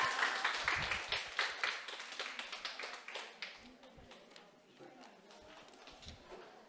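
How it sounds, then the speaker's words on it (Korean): A small class claps together at the end of a real-estate agent exam-prep lecture. The sharp, close claps start dense and loud, then thin out and fade over several seconds, with a few voices murmuring underneath. "우리 저 마지막으로 박수 치면서 종강하겠습니다"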